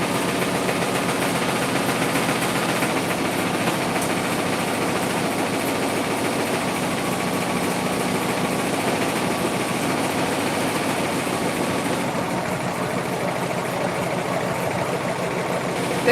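A sewing machine runs steadily in a sewing room, a loud, close, continuous mechanical whir that holds an even level throughout with no pauses.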